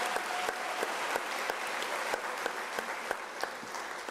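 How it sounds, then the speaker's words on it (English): Audience applause at a university autumn graduation ceremony honoring an honorary doctorate recipient, a fairly distant crowd clapping steadily with a few sharper individual claps standing out. "Can we give her a round of applause?"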